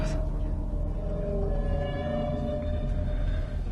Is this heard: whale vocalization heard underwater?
yes